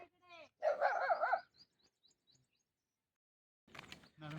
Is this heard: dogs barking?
yes